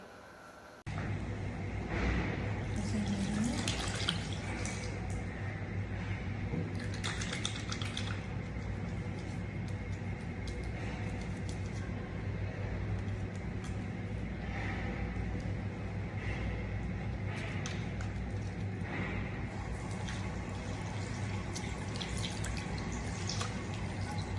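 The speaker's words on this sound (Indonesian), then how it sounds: "saya mencuci tangan dengan sabun dan air mengalir" Hands being washed with soap under running tap water in a clinical setting, heard as a steady splashing stream that starts abruptly after a short quiet moment and continues evenly, with occasional drips and clinks and no talk.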